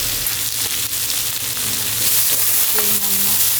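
Yakisoba noodles fry on a small iron griddle in an okonomiyaki restaurant in Hiroshima, giving a steady, loud sizzle with light scraping and clinks over the top and no talking.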